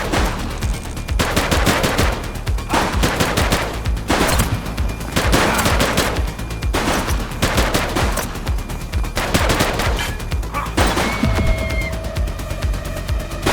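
Dense automatic gunfire in a police shootout in the video game The Precinct, loud and continuous with rapid repeated bursts and only brief lulls, and no talking over it.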